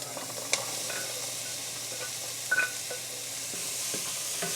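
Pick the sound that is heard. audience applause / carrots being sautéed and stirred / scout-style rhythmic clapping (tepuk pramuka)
carrots being sautéed and stirred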